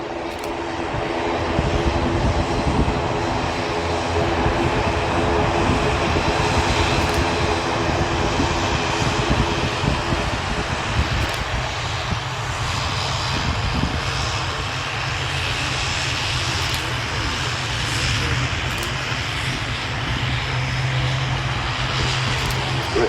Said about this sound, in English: Airbus heading straight towards us, just next to the sun at the moment, is a Boeing 777-300 belonging to Air Canada